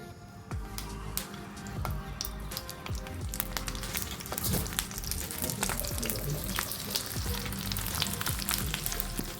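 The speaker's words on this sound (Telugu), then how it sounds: "ఆయిల్ వేడయ్యాక ఇప్పుడు రోల్స్ వేసుకుందాం" Cabbage rolls laid into hot oil in a pan, giving a loud, dense sizzle with frequent crackles and pops that builds and stays steady, heard up close.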